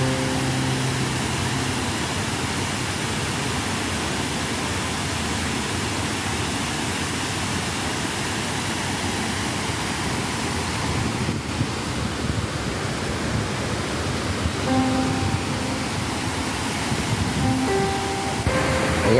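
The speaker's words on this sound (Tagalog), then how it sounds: "At ayan ang kanyang maliit na ilog." A small artificial stream runs down a hillside garden in Kalba, Sharjah, in the United Arab Emirates, giving a steady, close, broadband rush of flowing water that stays even throughout with no talk.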